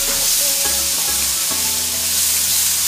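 Vegetables frying in a pan alongside Korean short ribs, a steady close sizzle running throughout with a few low thumps of the pan or utensil near the start.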